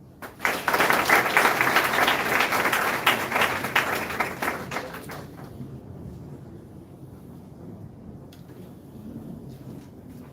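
Applause from a college class audience, a dense burst of clapping that swells loudly for about five seconds, then fades into quieter scattered claps and room noise.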